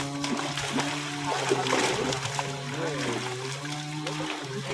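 A fishing net is cast high and splashes into a village pond, a broad watery splash and trickle under nearby voices that keep talking throughout.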